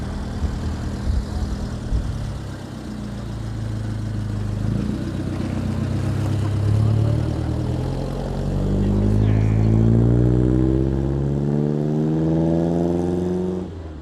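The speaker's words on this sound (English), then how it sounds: "Oh, what an exhaust note." An engine revving up through rising harmonics at a motor museum gathering, a loud, close exhaust note that climbs repeatedly over about fourteen seconds, with voices faintly in the background.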